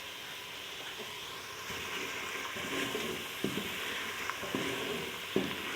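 Spices, including dried coriander powder and cumin, fry and hiss in a pan for whole green moong dal. A fairly quiet, steady sizzle is broken by occasional scraping knocks from stirring.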